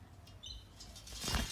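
A wild parrot in a garden flaps its wings in a soft fluttering burst, brief and close, with a faint chirp earlier over quiet outdoor background.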